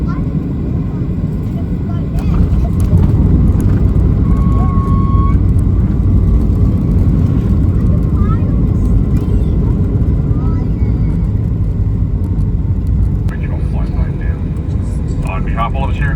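Loud, steady airliner cabin roar as the plane comes in to land at Melbourne Airport: a constant low engine and airflow rumble throughout, with faint tones and distant voices underneath.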